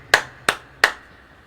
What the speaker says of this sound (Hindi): ताली बजाकर।